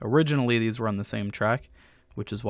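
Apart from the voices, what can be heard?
No distinct noise like a dog, phone or traffic.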